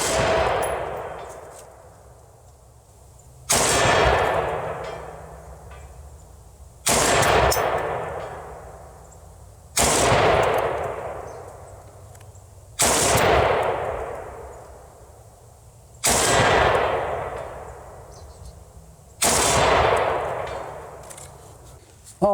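Rifle shots fired one at a time, seven loud cracks spaced about three seconds apart, each followed by a long echoing decay, in a suppressed versus unsuppressed comparison.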